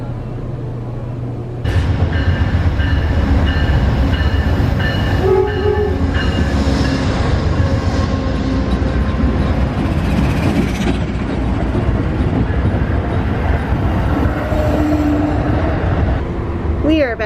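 An Amtrak Empire Builder train rumbles loudly along the rails near the Mississippi River with a steady clatter, a horn sounding briefly near the start, and a voice speaking over the noise.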